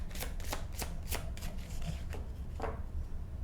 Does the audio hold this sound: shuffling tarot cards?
yes